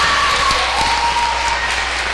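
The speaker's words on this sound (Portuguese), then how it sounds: "aplauda o Senhor." Church congregation applauding, a brief dense burst of continuous clapping filling the room at steady loudness for about two seconds.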